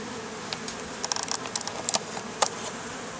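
Honeybees hum softly around an open hive during an inspection, a low continuous buzz dotted with quick close clicks and taps.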